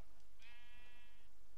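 A single short sheep bleat from the block-world video game Minecraft, a clear wavering cry lasting under a second over a steady background hum, with no talk.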